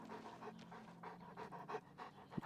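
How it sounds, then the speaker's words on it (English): Dogs in the fantasy video game Oblivion pant in quick rhythmic breaths, a steady series of soft huffs heard up close and alone, with a short thump at the end. "Wow, these are cool dogs."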